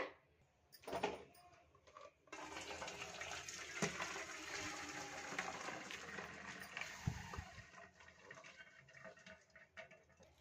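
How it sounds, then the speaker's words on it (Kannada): Water from cooked soppu greens and dal drains through a sieve in a home kitchen, a steady close rush and patter lasting several seconds after a few brief clatters at the start. "ಇದನ್ನ ನೀರು ಸಪ್ರೇಟು ಸೊಪ್ಪು ಸಪ್ರೇಟ್ನ ಮಾಡ್ಕೊಳ್ಳೋಣ ಜರಡಿಯಲ್ಲಿ ನಾವು ಸೋಸ್ಕೊಳ್ಳೋಣ ಇದನ್ನ"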